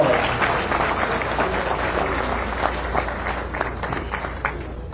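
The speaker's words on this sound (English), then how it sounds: "we give another round of applause to Roland" An audience at an outdoor Juneteenth celebration in Missouri City, Texas, applauding a speaker, a loud, dense wash of clapping that holds steady for several seconds, with some voices mixed in.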